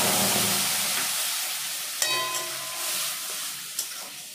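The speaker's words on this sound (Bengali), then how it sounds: "এখন কড়াইয়ের মধ্যে দিয়ে দেব টমেটো আর আদা পেস্ট।" Tomato and ginger paste sizzles loudly in a kadai of hot oil with whole cumin and bay leaf, a strong hiss that gradually softens, punctuated by a couple of sharp utensil clinks.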